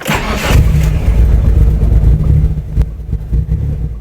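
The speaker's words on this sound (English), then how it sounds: "We shall now start it up." An abandoned Mitsubishi Eclipse, left sitting for 15 years, cranks briefly and then catches, its engine settling into a loud, rough, close-up idle with small uneven surges.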